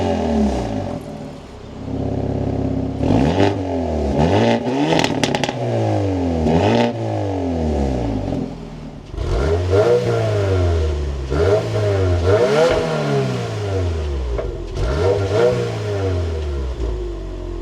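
A Subaru WRX engine accelerates repeatedly while driving, with loud, rising revs through several gear changes, each climb dropping sharply before building again, heard from inside the car.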